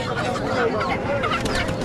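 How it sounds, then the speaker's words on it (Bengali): Village chickens, local hens and roosters, cluck loudly and close at a traditional rural market, a continuous busy chorus of clucks with faint voices underneath. "দেশি মোরগ মুরগি হাঁস মুরগি এখানে হ্যাঁ, বিক্রি করছেন"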